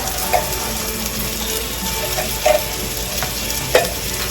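Tilapia cooks in a pan after water is added, giving a steady sizzle and bubble with a few soft scraping or clinking knocks at intervals, alone without talk.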